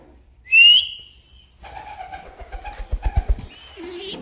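A pigeon close by gives a short run of soft, throaty coos in quick pulses, preceded by one sharp, high whistle and brief quiet rustling.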